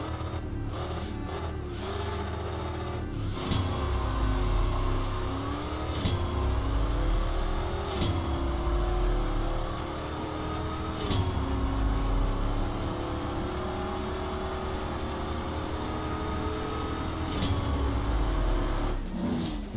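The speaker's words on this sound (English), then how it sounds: "let me just go ahead and race this beautiful, amazing looking car" Bugatti Chiron racing in the mobile game CSR Racing 2, a loud, continuous engine roar with rising revs and repeated gear-shift pitch sweeps across the whole run, with no talking.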